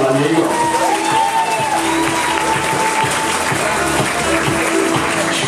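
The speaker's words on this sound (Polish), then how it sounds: "Wielkie brawa dla niego." A stadium crowd at an American football game between Wolverines Opole and Lions Gliwice applauds a player after a catch, producing steady, dense clapping and cheering for several seconds with a commentator talking over it.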